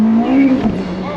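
A 1,000 HP all-wheel-drive Ferrari with a turbocharged engine accelerates hard, its tires chirping in second gear; a loud, close engine roar with a rising tonal note fills the brief moment.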